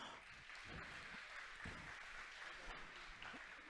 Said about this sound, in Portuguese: Peço mais uma salva de palmas.